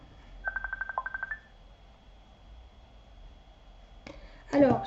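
Mobile phone keypad tones: a quick run of about eight evenly spaced beeps, clear and close, followed after a quiet pause by a brief burst of higher electronic chirps as the call is answered.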